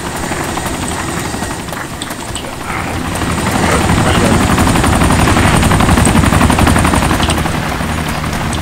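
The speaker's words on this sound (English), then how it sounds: "Somebody's in a heli." A helicopter in the video game DayZ thrums with a continuous rotor chop that grows louder and closer partway through, with faint scattered pops mixed into the steady drone.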